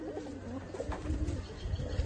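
Pigeons from a collection of setting pigeons coo softly and repeatedly nearby, low murmuring calls over a faint background hum.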